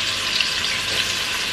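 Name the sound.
onions frying in a pan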